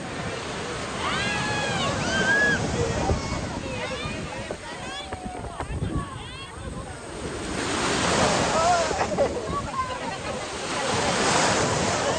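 Sea waves roll and crash steadily at Puri beach, with wind buffeting the microphone and voices talking over the surf.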